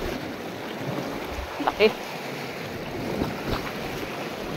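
Sea waves wash against a small fishing boat out on the water, a steady rushing slosh with wind buffeting the microphone and a couple of brief knocks, while someone speaks briefly.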